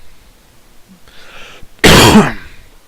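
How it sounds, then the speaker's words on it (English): A single harsh cough bursts out near the end after quiet rustling, loud and close, with a short throat-clearing quality. "I still got the coughs"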